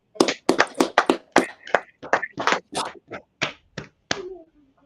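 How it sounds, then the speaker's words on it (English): A group claps hands in a quick, irregular burst of about a dozen sharp slaps, loud and close, spread over several seconds at a street gathering, with no talk over it. "Clap it up, Officer Badawan."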